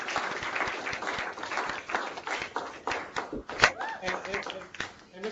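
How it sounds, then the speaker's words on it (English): A round of applause from an online meeting audience greeting a Hall of Famer, uneven clapping up close, thinning in spots and mixed with light voices. "join me in giving a round of applause to Hall of Famer"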